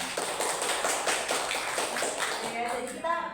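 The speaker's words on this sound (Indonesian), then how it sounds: "Tepuk tangan dulu buat Hasan." Classroom clapping for a student, a small group's quick taps repeating steadily through the moment, with voices murmuring underneath.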